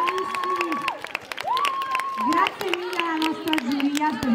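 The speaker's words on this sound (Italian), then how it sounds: "chiediamo un bel applauso" Audience applause and clapping at the San Marino Comics 2023 awards ceremony, a crowd clapping under loud voices and cheering, with the claps running steadily behind the voices.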